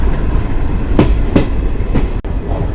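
Garib Rath Express passenger train running on rails near Delhi, a loud steady rumble inside the coach with a few clear clickety-clack wheel beats over rail joints.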